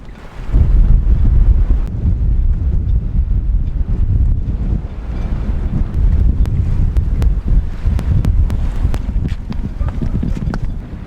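Strong wind gusts at sea buffet the microphone in a loud, sustained roar, with faint creaks and knocks of a sailing boat in the background.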